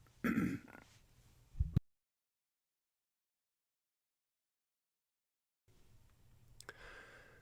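Two short coughs or throat-clearing bursts close to the mic, followed by a long silence, then faint low background noise.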